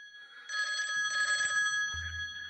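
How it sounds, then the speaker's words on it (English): A telephone rings in a talk-show studio with two bright, tonal bell bursts in quick succession, followed by a low steady hum as the ringing stops. "I think I hear the telephone ringing."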